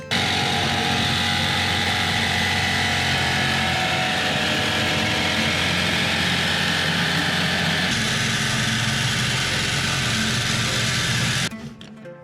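A loud, continuous whine of a power tool cutting a vent opening through sheet metal in a camper van, steady for several seconds, shifting pitch slightly before stopping abruptly.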